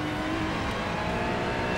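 Race car engine in a sim racing video game, a steady, loud droning roar with harmonic whine that holds continuously throughout, no talking over it.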